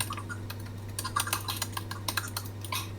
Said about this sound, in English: It's my favorite sound effect is typing.